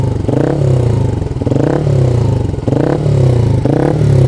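A Bajaj Rouser NS125 Fi motorcycle with a Blitz exhaust revs up to about 3,500 RPM, sounding loud and close as repeated rising blips over a steady idling rumble.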